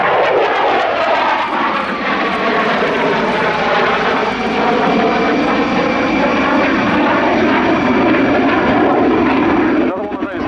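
A Eurofighter Typhoon jet flying a display at an airshow, a loud sustained engine roar that swells and shifts in pitch as it passes, with a commentator talking over it throughout.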